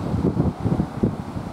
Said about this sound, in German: Heftiger warmer Wind von der See her.